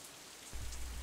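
Steady rain falling in the visual novel Katawa Shoujo, a soft continuous hiss and patter that swells fuller partway through, with no voices.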